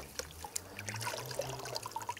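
Water trickling and seeping into a matted plant root ball during root-over-rock bonsai work, a soft, faint, continuous dribble with small irregular drips, heard alone at low level.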